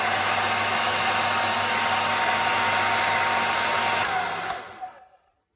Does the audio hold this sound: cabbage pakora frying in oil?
no